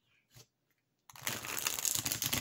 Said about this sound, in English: So we will start with the riffle shuffle and bridge, if I can do the bridge with these.